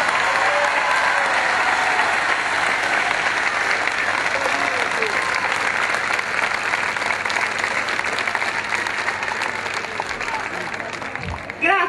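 Audience applause at a Tre Fontane concert for a singer, dense sustained clapping from a large crowd with scattered cheers, loud and continuous before fading slightly at the end.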